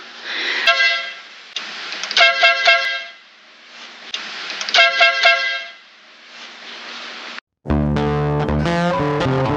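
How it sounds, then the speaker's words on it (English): Loud multi-tone train horn fitted to a 1969 Cushman golf cart, blasted in three long chord bursts with brief gaps, followed after a short silence by a deeper, harsher horn blast. "Alright, the train horn is hooked up."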